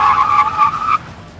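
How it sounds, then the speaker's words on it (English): Tires on a Mazda3 skid hard during a brake test, giving one loud, close screech that lasts about a second and then cuts off, leaving faint background noise. "Do a brake test."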